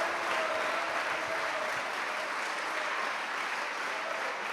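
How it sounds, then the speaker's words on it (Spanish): A church congregation applauds during a worship service: a dense, even wash of clapping from many hands that holds steady throughout, with no speech on top. "¿Cuántos pueden darle un fuerte aplauso a nuestro Señor Jesús?"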